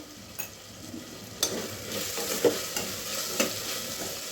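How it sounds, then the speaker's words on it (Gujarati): Vegetable noodles rice with chillies, potatoes and tomatoes is stirred in a hot pan, a soft constant sizzle broken by several sharp spatula scrapes and clanks at irregular intervals. "બધું આપણે હવે આમાં મિક્સ કરી દેશું"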